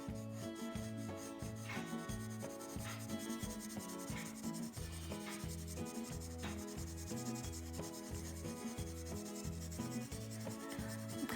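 A paper blending stump smooths pencil shading on a drawing in soft, repeated rubbing strokes, faint beneath steady background music.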